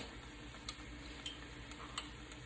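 A spoon stirs kosher salt into a pot of chicken sausage, shrimp and farro jambalaya, giving a few soft scraping strokes over a steady low sizzle, with no voices.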